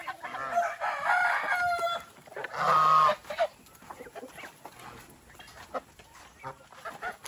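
Loud turkey gobbling rings out in bursts, one long warbling call standing out, with busy outdoor background noise and no talking.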